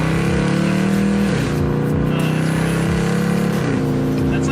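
A car engine held at about half throttle, loud and close with a steady droning roar and small rises in pitch, and no talk over it.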